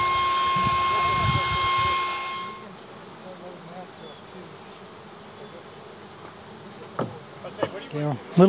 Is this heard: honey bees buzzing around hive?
yes